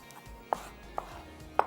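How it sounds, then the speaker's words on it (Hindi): Tomatoes chopped by hand with a knife on a board for an Arabic chicken and tomato rice dish, three separate crisp knife strikes spaced about half a second apart, close and fairly quiet, with no talking. "इस तरह टमाटरों को हमने चॉप करना है।"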